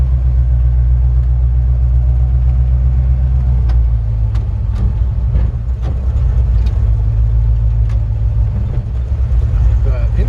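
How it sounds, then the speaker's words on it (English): A 1946 Ford half-ton truck with an upgraded 302 V8 and automatic transmission idles while warming up, a steady deep rumble heard close and loud for the whole stretch, with a few faint clicks above it. "It's got an upgraded drivetrain with a 302 V8 and an automatic transmission."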